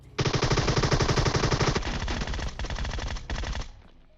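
Groza assault rifle firing on full auto in PUBG Mobile, a loud, close, rapid stream of shots that slows to a steadier burst before stopping, with no talk over it.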